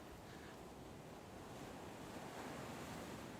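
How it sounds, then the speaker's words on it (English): Ocean waves wash steadily onto a shoreline, a continuous broadband surf roar with faint wind noise on the microphone and no voices. "stand here watching these waves"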